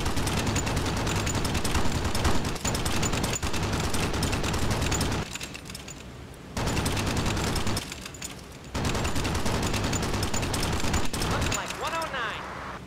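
Sustained machine gun fire from a B-17 bomber's gun positions in the flight combat game B-17 The Mighty 8th, dense and continuous in long bursts with brief pauses, loud and close.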